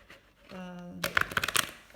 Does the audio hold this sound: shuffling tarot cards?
yes